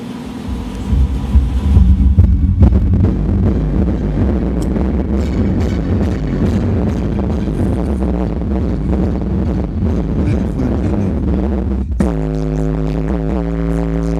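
A song played loud through Memphis 12-inch car subwoofers on a Sony Bluetooth stereo, with heavy, booming, rumbling bass and thick low-end throughout, then cleaner bass notes near the end, no talking.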